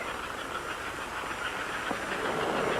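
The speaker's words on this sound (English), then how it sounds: "Hey, the Pioneer is pulling out." Steady rumbling of a train pulling out of a station, with a hissing, steam-like texture, continuous and fairly loud, no speech.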